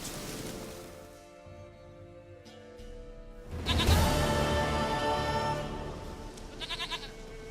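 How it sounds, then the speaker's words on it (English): A goat in The Witcher 3 bleats loudly and close, one long wavering cry followed by a shorter quivering bleat near the end, over faint outdoor ambience. "Goat of mine, dearest, sweetest goat."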